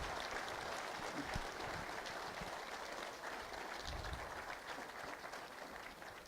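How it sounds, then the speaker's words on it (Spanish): Steady applause from an audience honoring presenters at a recognition event, a dense, continuous wash of clapping at moderate, distant level with no talk, holding evenly throughout. "Yo quisiera que les brindáramos un fuerte aplauso a todos ellos."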